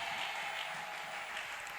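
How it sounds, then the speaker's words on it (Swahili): A church congregation claps and ululates during a Sunday service, a dense, steady wash of applause and high trilling voices with no breaks. "Mshangilie Mungu kwa makofi na vigelegele."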